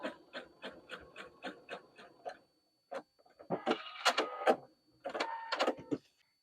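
A sewing machine top stitches an eighth-inch seam on a quilted project bag, giving a quiet, close run of rapid regular ticks, a pause, then a few denser bursts of stitching.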